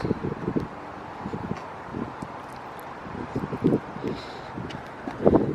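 Gusty wind buffets the microphone in uneven low rumbling bursts, with faint rustling in the background and no speech.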